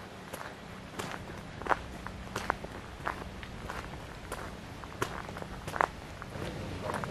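Footsteps of one person walking on the ground at an elk viewing area in Benezette, Pennsylvania, outdoors in cold, lightly windy weather; a steady series of soft, fairly close steps with faint ambient background.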